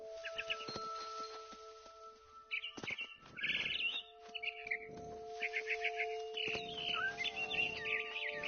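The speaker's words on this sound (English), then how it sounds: "Then I heard chirping outside my window." Barn swallow chirping in the video game What Remains of Edith Finch, bursts of quick high twittering calls over steady tonal game music, in clusters with short pauses between them.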